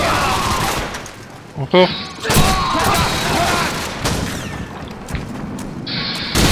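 Call of Duty 4: Modern Warfare gameplay with rapid gunfire bursts and thumping grenade explosions, loud and close. Players talk in French over the combat.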